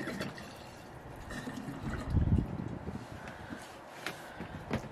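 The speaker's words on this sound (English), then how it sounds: "hear the gurgling. It's so ridiculous." Water gurgles and trickles as it fills a container outdoors in the mountains, a faint, uneven burble with a slightly louder surge partway through.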